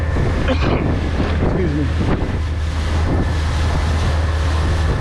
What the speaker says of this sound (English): I'm riding the crest and then dropping down into the valleys of these waves.